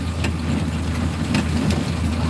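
A motorcycle engine running, parked briefly inside a subdivision in rainy weather: a steady, low idling hum that stays even throughout, fairly loud and close, with a few faint clicks over it.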